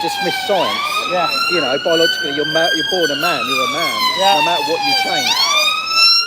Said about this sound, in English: That's an ambulance going past